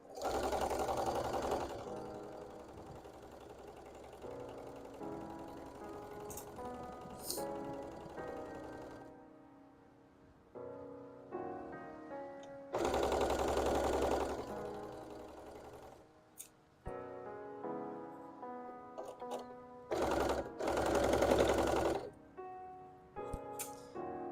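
A sewing machine stitches a handmade Pokemon hat in several bursts of rapid mechanical whirring, separated by short pauses and softer handling noises, close by with no voices.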